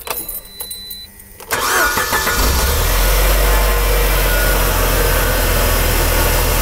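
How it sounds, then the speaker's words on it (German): A sharp clatter gives way to a UAZ van engine catching and then settling into a steady, loud, low idle that runs on evenly. "der Motor läuft schön ruhig"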